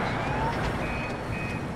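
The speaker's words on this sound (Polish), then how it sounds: "Teraz sygnały alarmowe." Alarm signals sound in the Metro 2033 video game, a faint warbling tone that wavers over a dense, steady background of game noise, continuous for the short stretch.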